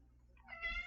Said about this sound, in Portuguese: Gatinha miando aqui, tá?